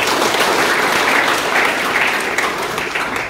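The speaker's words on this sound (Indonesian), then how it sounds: "Tepuk tangan buat Pak Sidata." An audience at a vocational high school talk breaks into dense, lively applause that carries on without pause and eases slightly toward the end.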